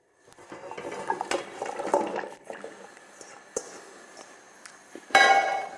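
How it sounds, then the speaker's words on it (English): Vegetables go into a pot for beef broth: a series of clattering knocks, thumps and scraping rustles against metal, uneven in rhythm, with a sharp louder clank near the end. "Now I'm going to add all my vegetables here."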